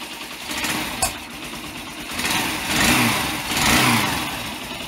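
Yamaha SR125 motorcycle engine running rough after oil starvation, a steady mid-pitched single-cylinder drone with two swells of revving, loud and close, alone without talk.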